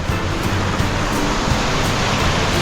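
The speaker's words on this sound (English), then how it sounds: "This is the confluence of Swift Creek" Water rushes at the confluence of Swift Creek and the Suwannee River in White Springs, Florida, a steady loud broadband roar of flowing water with faint rhythmic surges.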